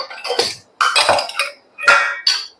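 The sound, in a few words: bowls, glasses and spoons loaded into a dishwasher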